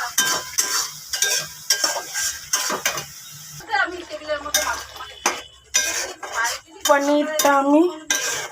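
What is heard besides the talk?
stirring and frying garam masala in a pan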